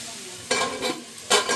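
Vegetables for sambar being stirred in hot oil: a quiet start, then three scraping, sizzling bursts of stirring close by, with no voices.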